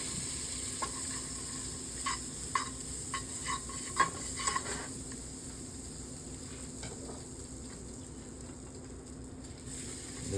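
Butter sizzles in a pot for toast, a faint steady hiss with a run of light stirring clicks and taps early on, then quieter sizzling alone.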